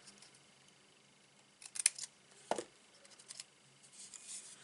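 Paper being trimmed for a heart-shaped gift box, heard as a few faint, brief snips and rustles spaced across an otherwise quiet stretch.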